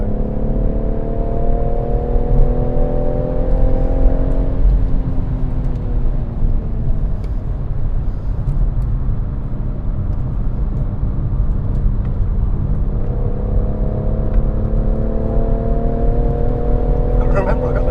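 A BMW M140i pulls hard at full throttle on the Goodwood circuit, its engine note climbing loud and steady through the gears inside the cabin, while people talk over the drone.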